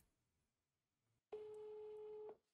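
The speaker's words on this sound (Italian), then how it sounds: "io provo qui a chiamare il mio cellulare" A mobile phone call rings through as a single steady electronic tone lasting about a second, clear and moderately loud after a quiet lead-in, with no talking.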